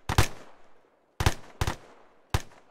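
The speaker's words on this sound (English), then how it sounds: "Keep firing, don't fucking stop." Rifle fire in Arma III during an infantry drill: four loud, sharp shots in quick succession, the first and last standing apart and two close together in the middle, each with a short echoing tail and no talking.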